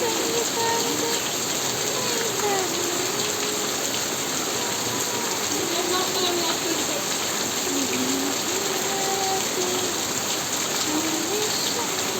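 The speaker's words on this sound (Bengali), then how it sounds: "এলো বৃষ্টি" Steady, dense rain hisses continuously, loud and close, with a faint melodic voice drifting underneath.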